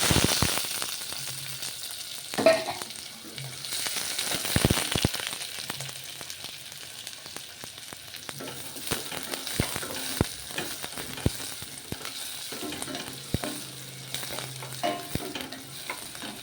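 Onions and green chillies fry with whole spices such as shahi jeera, cardamom and cinnamon, a soft steady sizzle broken by sharp clacks and scrapes of a spoon stirring the pan.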